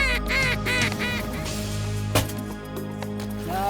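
Ducks quack in a rapid series of nasal calls during a Nebraska waterfowl hunt, with a sharp thump in the middle and another burst of quacking at the end.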